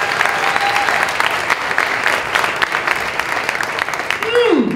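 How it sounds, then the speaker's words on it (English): An audience at a comedy fundraiser applauds steadily, a dense wash of clapping with a few whistles and cheers, loud and sustained throughout. "They deserve our round of applause."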